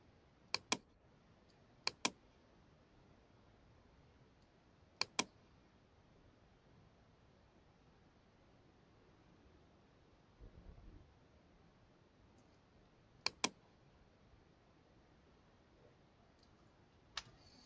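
Computer keyboard arrow keys pressed during Photoshop editing: a few sharp double clicks spaced several seconds apart, close and clean over quiet background hiss, with no talking.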